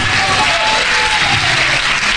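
Church congregation giving a loud, sustained round of applause to God during a sermon, dense steady clapping filling the room without a break.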